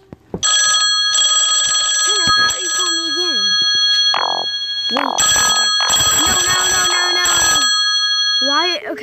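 A telephone rings in loud repeated electronic bursts, close and insistent, while a person talks and pleads over and between the rings.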